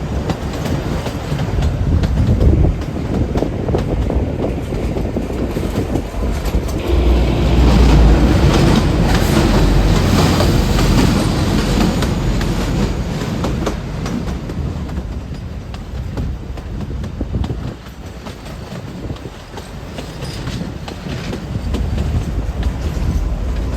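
Shimla to Kalka toy train running steadily, a loud continuous rumble of wheels and carriages with rhythmic clickety-clack throughout, swelling slightly midway, no talking.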